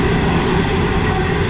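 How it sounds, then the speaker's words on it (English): A very long train rolls past close by, a loud continuous rumble and roar of rail cars with a steady tonal hum, unbroken and without talk. "Look at this train. This is the longest train I have seen ever."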